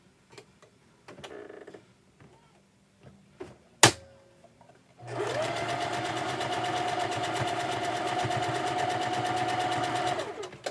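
A sewing machine stitches quilt blocks: scattered handling clicks and a sharp snap come first, then a sustained, even mechanical whir with rapid ticking runs for about five seconds, close by.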